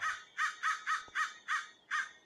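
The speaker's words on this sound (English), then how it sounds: "I did not come to play Minecraft to hear crows cawing in my ears." Crows caw in RLCraft, a modded Minecraft world: seven harsh, evenly spaced caws repeat in a steady rhythm, loud and close, with nothing else in the background.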